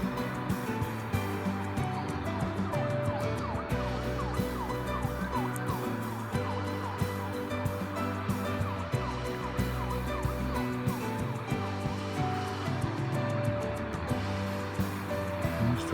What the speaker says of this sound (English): Thought I heard an emergency vehicle somewhere